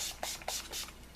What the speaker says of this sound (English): I'm going to get my setting spray so this look will not move or budge